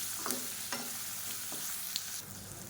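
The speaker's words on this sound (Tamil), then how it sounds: "வெங்காயம் ரொம்ப ப்ரௌனாக வதங்கணும்னு அவசியம் இல்லை. லேசாக கண்ணாடி பதம் வதங்கினா போதும்." Sliced onions for onion kurma sizzle quietly in a pan, while a spoon scrapes and stirs them in several short, separate strokes over the steady frying hiss.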